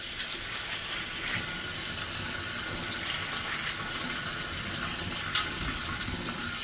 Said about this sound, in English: Okay, now let's rinse these off.